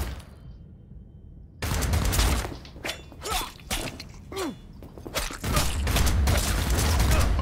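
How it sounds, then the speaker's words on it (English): Gunfire erupts in the video game Cyberpunk 2077 after a quiet moment, with loud bursts of shots, sharp impacts and clattering debris continuing to the end. "Oh, he's still shooting at me."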